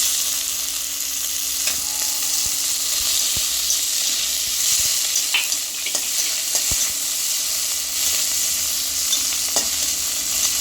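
Chopped tomatoes hiss and sizzle in a hot pan with fried onions and spices, a continuous crackling broken by scattered clicks and scrapes of a spoon stirring against the pan.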